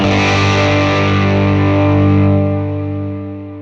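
An electric guitar played through a Fender Mustang GT amp with the gain turned fully up and delay at the end of the chain rings out as a loud, heavily distorted sustained chord, slowly decaying with a smeared echo tail.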